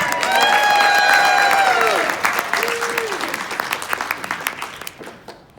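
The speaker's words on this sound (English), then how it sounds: "Let's hear it for Karen Reiner." A stand-up comedy audience breaks into loud clapping and cheering while a voice speaks over it, then the applause thins and fades out.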